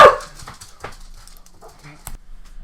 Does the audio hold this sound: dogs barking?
yes